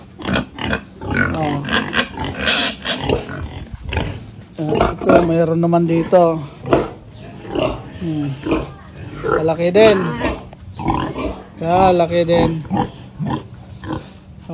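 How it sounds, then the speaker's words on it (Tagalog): Large pigs, including a big sow, grunt and squeal in a rural farm pen, with loud repeated calls breaking up a man's close, continuous talking. "Baboy, napakalaki ng baboy."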